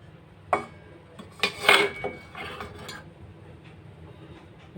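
A metal container clinks down onto a steaming rack set inside a pan on the gas stove, a few close metallic knocks and a bright clatter over a low background hum.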